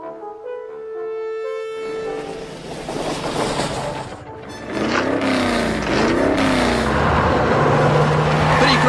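Cartoon cars rush past on a busy road, engines roaring and swooshing in overlapping passes that grow louder, following a brief tonal musical passage at the start.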